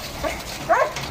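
Large German Shepherd dogs give a couple of short, whining bark-like yelps, the second one louder and near, with faint background noise between them.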